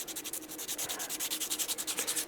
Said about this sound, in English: I'm just going to roughen that up because that's a pretty shiny surface